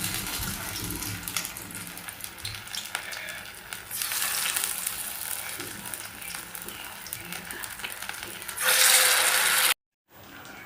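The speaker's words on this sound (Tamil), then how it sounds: "ஃப்ரை பண்ணி எடுக்கிறேன்." Turmeric- and masala-coated fish frying in hot oil, a steady crackling sizzle that swells louder near the end before cutting off abruptly, with no talking.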